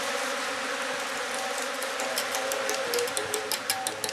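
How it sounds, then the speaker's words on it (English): Thousands of bees swarm around a man in Gabon, giving a steady high insect drone with small ticking sounds that grow more frequent toward the end. No one speaks. "The thousands of bees swarming around him doesn't seem to concern Curtis."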